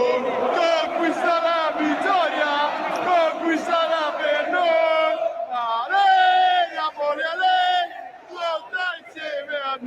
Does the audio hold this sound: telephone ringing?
no